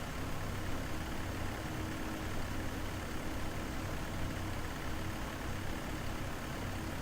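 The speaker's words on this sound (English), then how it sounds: "This tractor looks great with the sprayer on the back." A tractor engine with a sprayer attached, in the Farming Simulator game, drones as a steady, loud, low rumble with broad noise throughout and no voices.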